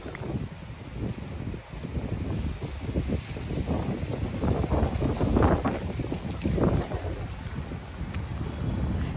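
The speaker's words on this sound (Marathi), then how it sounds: "आता जरा वाऱ्याचा वेग वाढलेला आहे." Strong wind buffets the microphone at a coastal paragliding site on a hill above the sea, a steady loud roar with gusting swells throughout and no voices.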